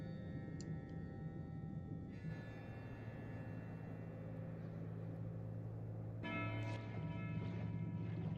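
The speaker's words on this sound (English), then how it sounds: "the clanging of the bells is not helping me with the creepiness of this environment" Bells clang in a dark, creepy area of the game Tainted Grail: The Fall of Avalon, a faint, distant ringing under a low rumbling ambient drone with a shift in the background tone partway through.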